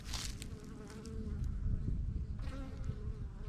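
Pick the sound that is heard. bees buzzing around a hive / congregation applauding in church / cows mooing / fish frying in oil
bees buzzing around a hive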